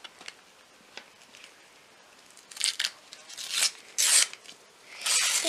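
A paper LOL surprise ball sealed with a little paper lock is being opened, bursts of crisp rustling and tearing paper growing louder toward the end after a few faint taps, close and with no talk.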